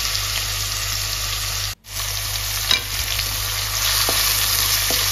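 Onions fry in a pan for begun curry with a loud close sizzle, briefly cut off for a moment, then continuing with light stirring knocks.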